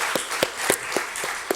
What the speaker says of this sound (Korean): 우리 자녀들 위해서 우리 축복하면서 박수 한번 쳤으면 좋겠습니다